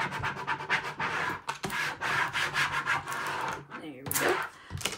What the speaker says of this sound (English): You're going to make sure you're burnishing it on there really well